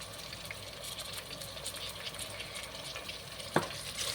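Chopped tomato frying in a pan is stirred, giving a steady soft sizzle with faint scraping and one brief sharp clink near the end.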